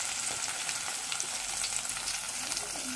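Chopped onions and curry leaves frying in a pan give off a dense, even sizzle with faint crackles and soft stirring, close up and steady, without speech.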